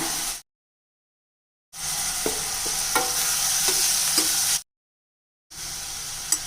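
About 200 grams of tomatoes with turmeric and sambar powder sizzle and sauté in a hot pan for a Tamil-style kuzhambu, a loud close frying hiss broken by a few short clinks of stirring, cut into segments by brief silences.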